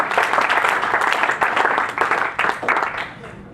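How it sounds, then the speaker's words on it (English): An audience at an inspirational speech claps in a dense, sustained burst of applause, loud and close, tapering slightly toward the end. "Let's have a round of applause for that."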